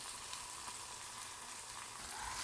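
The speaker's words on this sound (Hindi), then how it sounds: "अब हम इसमें माश की दाल ऐड करेंगे" Urad (maash) lentils go into an oil-separated tomato and spice masala, giving a steady, close sizzle of frying that holds evenly throughout with a slight swell at the end, and nobody talks.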